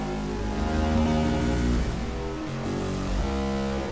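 Dense, smeared music processed by a blur plugin acting like a messy slapback delay mapped to modulators, a continuous thick wash with no clear gaps and no voices.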